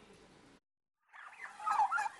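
Turkeys on a poultry farm in Narsingdi gobble in a quick rattling burst that builds louder after a short silence, preceded by softer fowl calls, close and with no talk.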